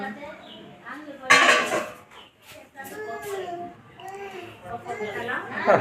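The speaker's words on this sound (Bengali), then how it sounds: "ভাতও হয়ে গেছে, এবার নামিয়ে নেব।" A cooking pot of Gobindobhog rice is lifted off a home stove, with metal pot and utensil clanks mixed among ongoing talk and children's voices nearby.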